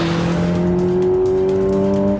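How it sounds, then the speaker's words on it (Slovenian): A 2013 Peugeot RCZ 1.6 THP VTi 200 turbo engine revs loud and close, a steady sustained tone that slowly climbs in pitch, with no talk. "In lepo se ga sliši, ker ima posebno membrano, da v kabini ustvari bolj športen zvok"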